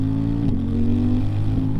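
A CFMoto 800 NK motorcycle engine revving, a loud, close mechanical drone whose pitch dips briefly partway through and then holds steady, with no voices over it.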